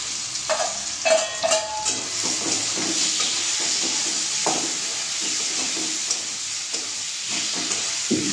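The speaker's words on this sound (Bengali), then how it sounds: "এটা ভালো করে কষতে থাকবো।" Spices with green chillies and tomato sizzle steadily in a hot pan as they are sautéed, a constant loud frying hiss broken by scraping stirs and the clink of a utensil, with no talking.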